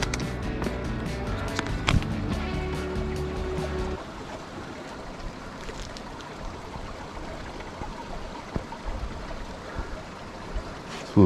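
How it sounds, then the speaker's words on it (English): Water running and trickling into a rock field along a steep mountain trail on the Ouachita Trail, a steady broadband wash that follows a louder mixed stretch in the first few seconds. "We'll see if the GoPro would pick up the noise of the water running into this rock field."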